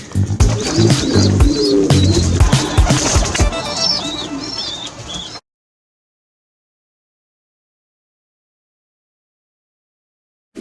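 Pigeons, a group of widowhood racing pigeons, coo and chirp amid flapping wings and shuffling in a close, busy loft, then the sound cuts out abruptly to silence.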